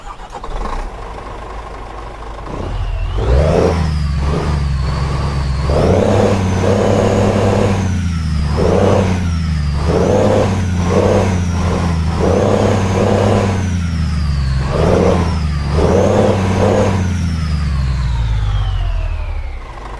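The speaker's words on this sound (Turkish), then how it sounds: "İsterseniz bir aracımızın sesini dinleyelim. Sesi güzel olmuş mu bir çalıştıralım." A Renault T-Range truck engine in Euro Truck Simulator 2 starts and runs, revving up and down repeatedly through several surges and drops; the loud, steady mechanical drone fills the scene alone before winding down at the end.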